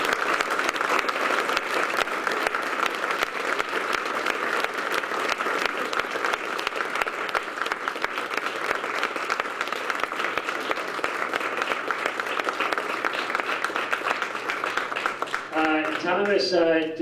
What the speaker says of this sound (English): I would like to get a big round of applause to Thomas Linsey.